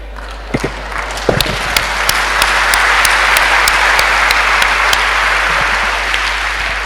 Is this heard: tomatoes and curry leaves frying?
no